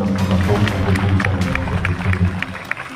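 An audience gives a round of applause for the Tarun Byayam Samiti at a gathering, brief rapid clapping heard close and fairly loud, tapering near the end, with a speaker's voice running underneath.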